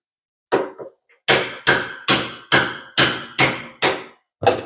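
Hammer striking metal during work removing a vehicle's rear end, eight loud close blows in an even rhythm, each ringing briefly, with no talk.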